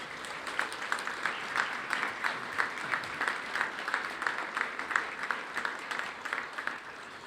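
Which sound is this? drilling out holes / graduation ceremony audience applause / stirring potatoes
graduation ceremony audience applause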